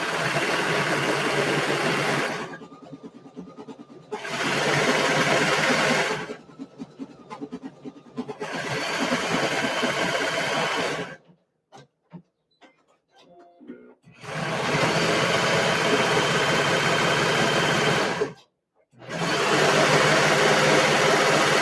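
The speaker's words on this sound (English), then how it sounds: "So now I'm going to continue serging." A serger overlock sewing machine stitching in bursts, each run a loud steady whir lasting a few seconds, with short pauses between runs and faint handling noises in a quiet gap.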